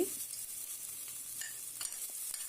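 Chopped garlic and ginger sizzling with whole cumin seeds in hot oil, a soft, steady hiss with faint pops and crackles, close by and with no voices.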